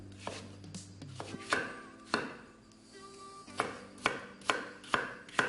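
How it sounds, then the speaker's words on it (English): Several sharp knife chops through Maris Piper potatoes on a board, irregular and close by, with short pauses between bursts of cutting. "peel 4 Maris Piper potatoes, then cube."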